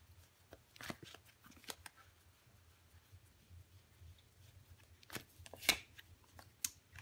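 Tarot cards being handled and laid down, with quiet, sporadic papery flicks and taps and a couple of crisper snaps near the end.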